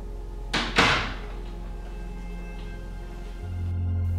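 A door shut in a tense indoor scene, heard as two sharp knocks in quick succession, the second a louder thud, followed by a quiet room and a low hum rising near the end.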